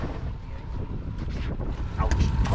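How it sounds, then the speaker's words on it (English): A strong west wind gusting to about 30 blows over a fishing boat on open water during walleye fishing, giving a steady roar of buffeting wind noise with water sloshing underneath. "it's blowing out of the west pretty good, gust of 30"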